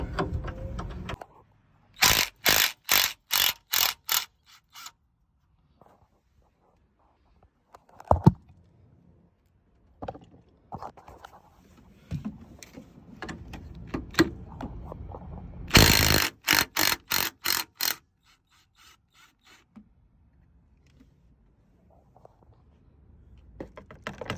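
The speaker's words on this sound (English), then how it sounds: "Take off the condenser bolts." A hand ratchet clicks in quick, loud bursts as condenser bolts are loosened on a 2006 Volvo semi truck, with short pauses and faint metallic clanks between runs of rapid pawl clicks.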